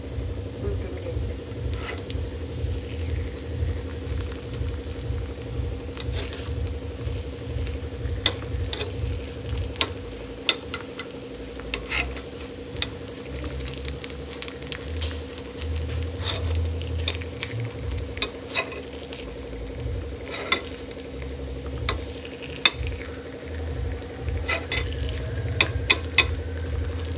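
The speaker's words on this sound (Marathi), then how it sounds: "मस्त आप्पे टाकलेले आहेत. आता 5 मिनिटात झाकून काढून" Oats appe cook in an appe pan with a steady, close sizzle and crackle, joined by light scraping and tapping throughout.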